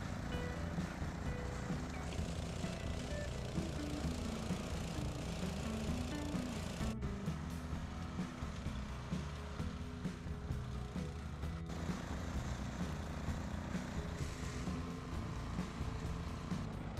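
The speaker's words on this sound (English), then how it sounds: "Day two, and John's back at it with our new brush cutter mower, this time tackling the back of our land" A brush cutter mower clears dense, thick overgrowth at the back of rural land, its engine droning steadily at moderate distance with shifting load and a couple of brief dips.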